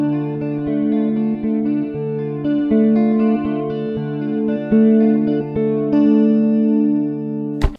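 A Firefly Explorer electric guitar played on its upper pickup alone plays sustained, effect-laden chords and notes with a bright, slightly distorted tone, ringing continuously without any voices.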